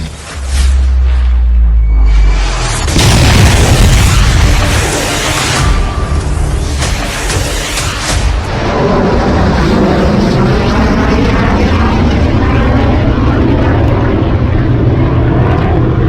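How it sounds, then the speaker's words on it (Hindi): A BrahMos missile test launch gives a sudden loud roaring blast that swells into a sustained, powerful rumbling thrust and fades slowly as it travels away, with no talking. "पिछले दिनों यह ब्रह्मोस मिसाइल का टेस्ट भारत ने किया है"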